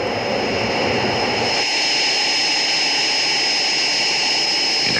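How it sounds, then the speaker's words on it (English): A commercial jet airliner at a small outback airport in the Pilbara mining town of Newman gives a loud, steady broadband roar that holds for the whole stretch, dipping slightly in its low rumble partway through. "Newman Airport is small, but is more than adequate to handle the commercial jets and numerous small aircraft"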